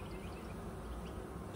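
Honeybees hum in a dense, steady drone inside an open hive during an inspection, close and continuous but quiet, with no voices.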